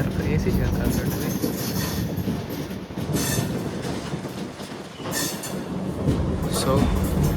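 A passenger train in Kerala runs on rails near Shoranur toward Tirur, heard from onboard as a loud, steady rumble with clattering wheels and occasional brief squeals throughout.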